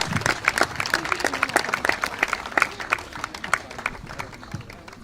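A crowd at a Relay for Life cancer charity event applauds after a speech, with steady dense clapping mixed with faint cheers and crowd noise throughout.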